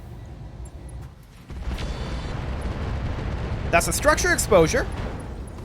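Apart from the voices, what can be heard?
ammo explosion in RogueTech (BattleTech mod) video game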